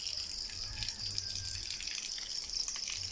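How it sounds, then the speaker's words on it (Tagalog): Water runs steadily through a bamboo channel outdoors, a soft continuous trickle and gush with no talk. "ito ang tubig na nilagyan nila ng kawayan. dumadaloy"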